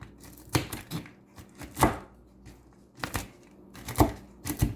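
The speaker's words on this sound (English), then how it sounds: "Now that we have our nuts chopped" A knife chops nuts into little chunks on a board for a candied nut treat, giving sharp, irregular thwacks that land close and distinct, with quiet gaps between the strikes.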